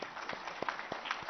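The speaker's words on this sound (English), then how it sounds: "I think it is my entire team, Industry and Commerce Department's team, who really deserve a big round of applause" A crowd applauds the Industry and Commerce Department team at an annual report launch event. The clapping is brief and steady, with individual claps standing out in a loose rhythm, and no voices come through over it.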